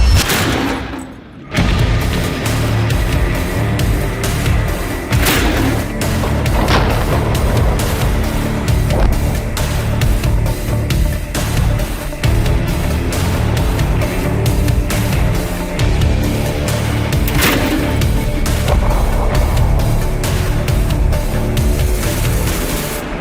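Repeated bangs and booms of grenade launchers firing outdoors rip through a loud, continuous din, with sharp reports recurring irregularly across the clip.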